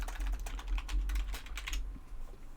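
Quick, light keystrokes on a computer keyboard, a close run of clicks that slows and fades near the end, heard over a low hum.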